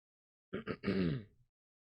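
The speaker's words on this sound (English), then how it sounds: "Sorry, I had to cough." A single muffled cough, short and close, with a brief voiced tail, surrounded by silence.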